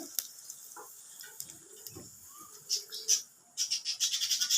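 Cumin seeds crackle and sizzle in hot oil in a kadai, the spluttering growing louder and denser toward the end, with someone talking softly over the sound.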